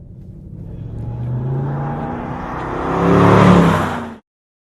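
A 2012 Mercedes-Benz C63 AMG's V8 accelerates hard, its rumbling engine note climbing steadily in pitch and volume to a loud peak before cutting off abruptly.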